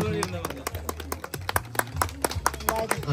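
Guests at a Nepali wedding clap for the bride, a run of scattered, sharp hand claps heard under voices talking.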